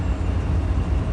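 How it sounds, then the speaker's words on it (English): Amtrak passenger train 449 passes through Worcester with a loud, close, continuous low rumble and roar, steady throughout with no voices. "Here comes Amtrak"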